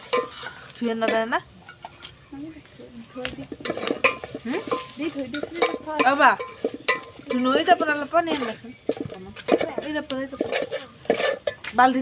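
Chilli and tomato masala stirred in a pan while cooking chicken skin, with repeated metallic scrapes and clinks of a spoon against the pan over a low sizzle, and people talking intermittently nearby.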